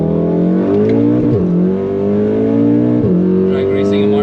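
A tuned 550 hp VW Golf R at the Nürburgring accelerates hard in a drag race, its engine note climbing steadily with two quick dips at gear shifts, loud and close throughout.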